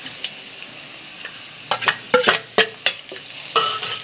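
Urad dal stir-fried in hot oil in a pan gives a soft sizzle punctuated by several sharp spatula scrapes and stirs, close and clear with no talk.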